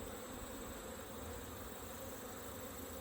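Agitated honeybees buzz in a dense, continuous swarm drone, close by and steady throughout with no talk.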